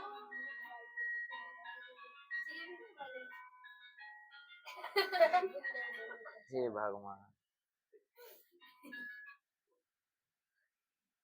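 Mobile phone ringtone of an incoming call: a bright repeating synthetic melody plays for several seconds, loud and close, with a short exclamation from a voice over it, then the tune stops.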